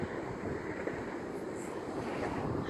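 Wind buffets the microphone at a lookout over Coffs Harbour, NSW, a steady loud rumbling roar that fills the whole stretch without letup.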